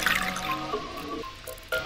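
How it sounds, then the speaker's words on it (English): In the video game Zero Escape, ethanol pours into a lab drain as a steady liquid trickle and glug that shifts pitch as it flows, ending with a brief splash, with no voices over it. "I'll just pour the froggy ethanol into the drain."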